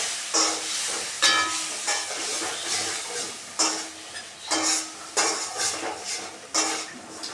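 Water splashes into spice paste frying in a pan for a Bengali tangra fish curry, giving bursts of loud hissing sizzle with clattering of a utensil against the pan in a steady stirring rhythm.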